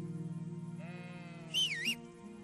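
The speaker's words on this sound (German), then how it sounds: "Ich höre hier ein Schaf." A sheep in the medieval game Kingdom Come: Deliverance gives a single wavering bleat over a steady low drone of background hum.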